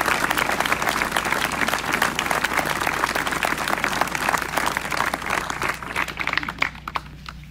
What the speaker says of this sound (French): Je vous demande de leur donner une bonne main d'applaudissements.